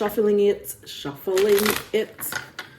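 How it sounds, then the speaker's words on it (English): A deck of tarot cards is shuffled by hand in quick riffling bursts close to the microphone, mixed in with a person talking. "I'm just shuffling it"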